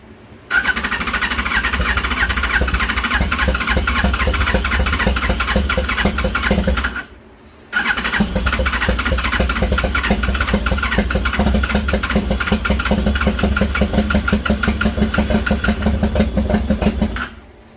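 An 18-year-old 2005 Yamaha FZ1 motorcycle under rebuild runs loud and close, a steady rough idle that cuts out briefly and restarts, droning on without voices.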